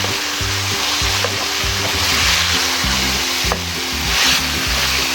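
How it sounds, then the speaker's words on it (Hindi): Chopped cabbage tipped into a pan of frying rice for Chinese biryani brings a loud, steady sizzle, with occasional stirring clinks over a low rumble of background music. "गोभी को काट लिया है छोटे छोटे पीस की शक्ल में, ये शामिल कर देंगे"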